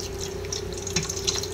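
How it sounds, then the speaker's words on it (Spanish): Cold water poured over cooked nopales in a colander, a steady hissing, splashing stream of water running continuously at close range. "a poner agua fría"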